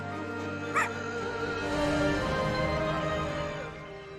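A cartoon puppy in The Legend of Korra animated show yips and barks briefly, a single high bark near the start over a steady musical score and background ambience.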